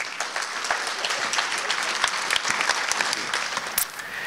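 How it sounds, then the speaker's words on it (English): An audience applauds warmly for Mike George at a talk on happiness and coaching, a steady, dense patter of many hands clapping close by, sustained evenly with no voices. "I'd love you to give a warm round of applause to Mike George."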